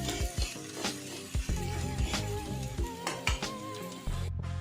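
Mutton stirs in hot oil in a pan during Bengali-style kosha cooking, a steady loud sizzle broken by repeated scraping clinks of a spatula against the metal, close and continuous with no talk.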